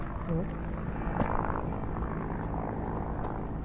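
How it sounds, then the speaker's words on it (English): A Park Police helicopter flies near the White House, its steady rotor and engine drone holding at a moderate distance, with what sounds like faint voices underneath. "They've got 2 or 3 Park Police helicopters."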